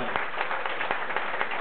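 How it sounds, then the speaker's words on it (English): A live comedy show audience gives a guest named Steve a round of applause, with a dense wash of clapping that holds steady for under two seconds, sharp individual claps standing out. "ladies and gentlemen, round of applause,"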